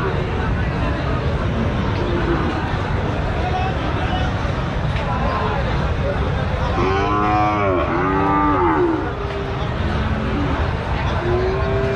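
Cattle at a livestock market in Joypurhat, Bangladesh, where a white cow is among those for sale; a loud drawn-out moo rises around the middle, set against steady crowd babble and voices talking throughout.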